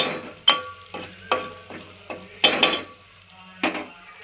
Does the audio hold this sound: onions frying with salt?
yes